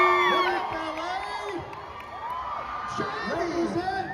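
A large crowd at a Scream panel at LA Comic Con cheers, whoops and yells, with a sustained roar of many voices and a few high shouts rising above it throughout.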